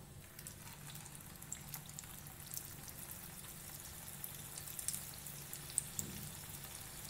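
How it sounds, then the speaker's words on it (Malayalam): Bread fingers dropped into hot oil fry with a soft, steady crackle and fine popping throughout, fairly quiet and continuous with no voices. "ഇനിയിപ്പോൾ നമുക്കിത് ഫ്രൈ ചെയ്തെടുക്കാം"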